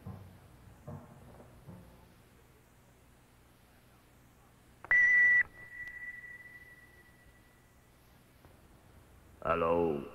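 A single sharp electronic answering machine beep rings out, holding as a long steady tone after a brief burst, then a louder noisy burst follows, with quiet speech before it.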